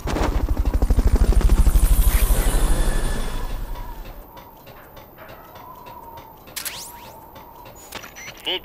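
Helicopter in the video game Metal Gear Solid: Peace Walker, a loud rhythmic rotor thumping that fades away over several seconds, leaving quieter ambience with a few sharp clicks.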